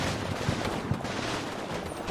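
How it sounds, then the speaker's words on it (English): Dense video-game gunfire rattles continuously, with machine-gun bursts blending into a steady, loud wash of shots and a couple of sharper cracks standing out. "Machine guns keep shooting, everyone keeps shooting"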